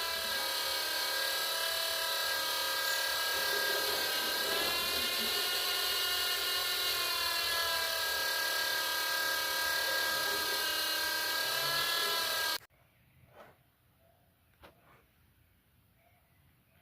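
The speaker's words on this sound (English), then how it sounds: "Get the oil pump turned on." An oil pump runs steadily during an oil filter test, a loud continuous whine with layered tonal harmonics lasting about twelve seconds, then cutting off abruptly to near silence with faint clicks.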